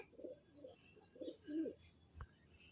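Pigeons coo nearby in a few soft, low, rounded calls over about three seconds, with a brief knock near the end.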